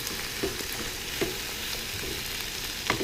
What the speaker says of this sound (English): onion getting fried